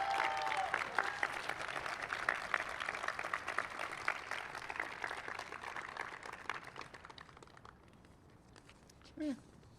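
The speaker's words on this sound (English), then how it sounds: "let's give them a little bit of a round of applause right now" An audience at a medical school Match Day 2022 ceremony claps steadily for several seconds. The applause thins out toward the end, and a brief voice comes in at the close.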